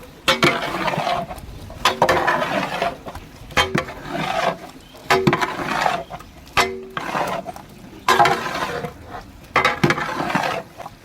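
Chicken pieces being stirred into masala gravy in a large pot for a big batch of chicken curry, with repeated scraping and clanking strokes of a ladle in regular bursts, close and fairly loud, no talking.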